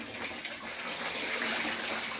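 Tap water gushes steadily into a basin used as a small tub, a close, even splashing rush that grows slightly fuller toward the end, with no talking.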